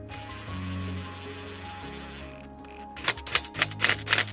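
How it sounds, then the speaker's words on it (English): An impact gun fitted with an 8mm socket tightens a nylock nut while assembling an industrial hose reel, giving a rapid burst of sharp hammering rattles at the end after a quieter humming lead-in. "we put 8mm socket on our impact gun, 8mm to the nylock, take the gun underneath"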